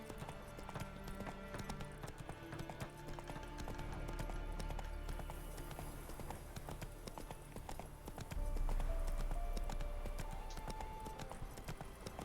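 In The Witcher, the horse Roach gallops with a steady, fast clip-clop of hooves. Game music and ambience play underneath, and the hoofbeats swell louder toward the end.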